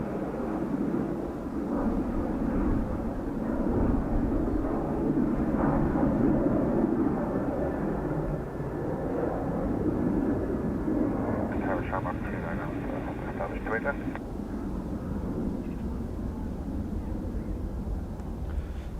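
Ryanair aircraft engine noise at Dublin Airport in a crosswind, a broad continuous jet roar that swells and fades over the whole stretch, heard from outdoors with a voice talking over it.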